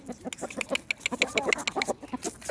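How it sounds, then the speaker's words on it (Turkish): Roosters and hens cluck together in a farmyard, a busy stream of short, overlapping clucks and chatters at close range with no talk. "Artık horozlar işte tavuklarla geziyor."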